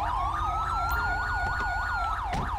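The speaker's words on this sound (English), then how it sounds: "Somebody else is running their siren." A wailing police siren in the video game LSPDFR, rising and falling in a fast, regular cycle, loud and continuous, with a low engine rumble beneath.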